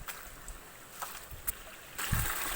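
Water flowing along a village channel, a soft steady wash with a few small splashes, faint and distant, growing slightly louder near the end.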